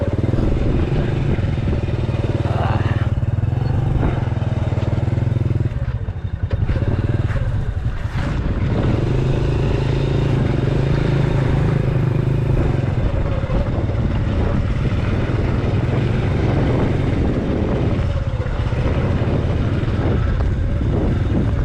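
A street motorcycle engine drones steadily up close, its pitch rising and falling as it rides a rough trail near Pantabangan Dam, Nueva Ecija, with some rattling clatter along the way.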